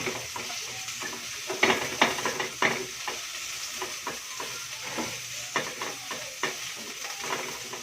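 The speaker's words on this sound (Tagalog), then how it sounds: "Siyempre, ilagay na natin ang sibuyas." Onion sautés in a frying pan with a steady sizzle, broken by repeated stirring scrapes and clinks of the utensil against the pan. No one speaks.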